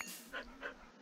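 Video-game dogs pant in a quick, breathy rhythm, two or three short puffs close up and fairly quiet, with no voices.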